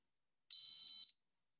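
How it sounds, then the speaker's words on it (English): A single steady 440 hertz electronic buzzer tone sounds for about half a second, clean and high-pitched, in otherwise silent surroundings. "when I press on the button, the buzzer sounds."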